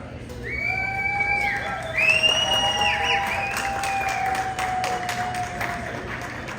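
Inside JFK airport, a waiting crowd cheers and applauds, with rising shouts and whoops over scattered clapping that carries on for several seconds in a busy terminal.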